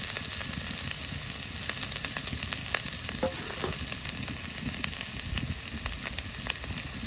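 Onion, ginger and garlic fry in hot oil with chopped green chilli, cumin powder and red chilli powder, giving a steady close sizzle with small crackles and occasional stirring scrapes throughout, no voices.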